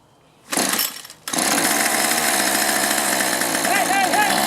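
A gas string trimmer, hard to start and running poorly from fuel problems, is pulled over at half choke: a brief burst, a pause, then the engine catches and runs on loud and raspy, with someone shouting nearby.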